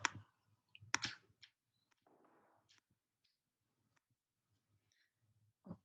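Computer mouse clicks while working on a graphic design: a few sharp, isolated clicks spaced irregularly, quiet and close, with faint soft rustling between them and a low background hum.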